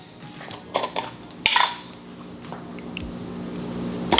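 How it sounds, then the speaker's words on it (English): A utensil clinking and scraping against a bowl while honey mustard dressing of mayonnaise, apple cider vinegar, black pepper and garlic is stirred, a few sharp taps then softer continuous mixing, close and alone. "All right, let's get it mixed up."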